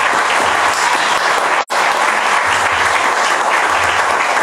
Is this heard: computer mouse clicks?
no